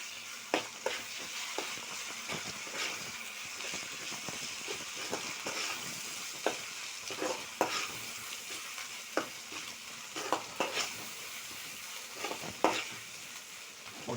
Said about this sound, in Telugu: ఓకే, అల్లం వెల్లుల్లి పేస్ట్ వేసాం. ఓకే, మస్తు తిప్పుకుందాం అప్పుడు.